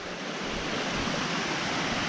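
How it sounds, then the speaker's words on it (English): North Harper's Creek waterfall roars as a dense, continuous wash of falling water, steady and fairly close, with no voices. "North Harper's Creek waterfall. Pretty nice waterfall."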